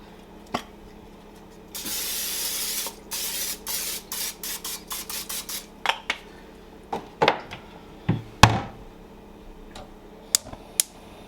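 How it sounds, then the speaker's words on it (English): A long hissing burst of cooking spray into a pan, followed by a series of short sharp spray puffs and scattered clicks and taps nearby. "I'm just going to take a little bit of cooking spray"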